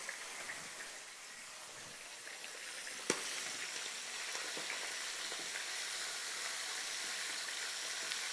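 Chicken pieces sizzle steadily in hot oil in a pot for a marmita of beans, a continuous close frying hiss with one sharp pop partway through and faint stirring.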